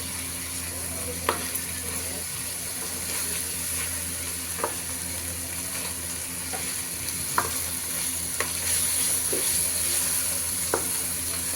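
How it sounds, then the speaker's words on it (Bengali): Prawns fry with onion and ginger-garlic paste in a pan, giving a steady broadband sizzle with occasional faint clicks of a stirring spoon, moderately loud, with no talking. "এরপর চিংড়ি মাছগুলো দিয়ে দিলাম, পেঁয়াজের সাথে একটু ভেজে নিব।"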